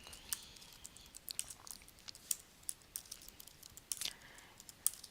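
Quick, light clicks of answers being typed on a computer keyboard, close and quiet, tapping in irregular bursts with short pauses and no voices.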